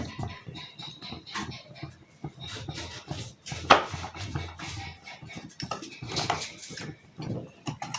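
A spoon scrapes and stirs a no-bake dessert mixture in a pot on the stove, with soft repeated rubbing and clinking against the metal, quiet and close, with a few louder scrapes.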